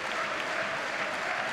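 Fans in a football stadium applaud steadily during a Helsingborgs IF match, a thick, even wash of distant clapping.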